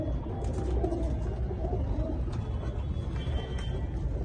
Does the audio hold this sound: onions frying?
no